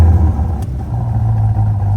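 Chevrolet Corvette C8 Stingray V8 with its exhaust valves, close by and loud, its deep rumbling note swelling into a sustained rev with no talk over it.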